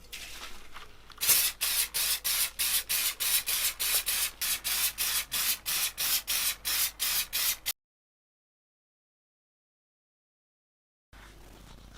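Protector spray goes onto Gucci kitten heels for a second coat in a rapid series of about twenty short, even hissing bursts, close and alone, followed by silence and faint room noise.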